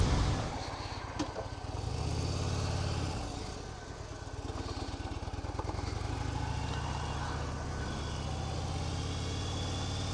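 A 2015 Harley-Davidson Fat Bob cruiser rolls along at about 45 mph, its engine a steady low drone mixed with wind rush, fairly faint and continuous, with no talking.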